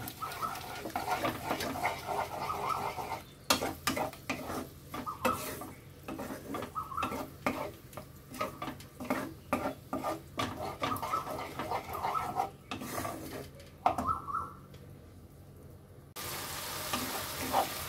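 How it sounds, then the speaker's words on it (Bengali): Salted yogurt paste sautéing in a pan gives a soft, faint sizzle with repeated scraping and stirring strokes in an irregular rhythm, broken by short quiet gaps near the end. "আবারও ভালোভাবে কষিয়ে নেব।"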